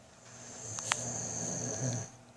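A young child imitates snoring with a couple of soft, breathy snorts, alone and fairly faint.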